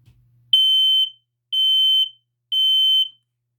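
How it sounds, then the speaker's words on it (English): Kidde Fire Sentry i9040CA smoke alarm giving three loud, steady, high-pitched beeps of about half a second each, evenly spaced, close by with silence between them. "This Kidde Fire Sentry I-90-40-CA."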